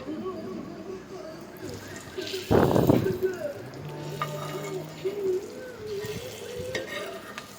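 A steady sizzle of an egg frying in a pan over low heat, with a brief louder burst of stirring or scraping, under some nearby talk.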